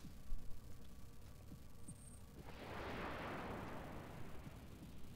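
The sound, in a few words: mech weapon salvos firing in the video game BattleTech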